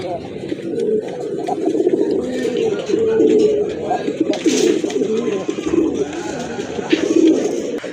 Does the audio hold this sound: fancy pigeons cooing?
yes